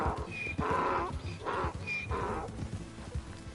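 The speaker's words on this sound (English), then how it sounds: "Why does the zebra sound like a donkey?" A zebra in Red Dead Redemption II gives a braying, donkey-like call in four rhythmic, nasal honks over a low rumble, with no talk.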